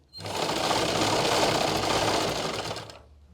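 A sewing machine stitches the hem of a salwar leg in one continuous, close whirring run lasting a few seconds, starting and stopping abruptly with no talk over it.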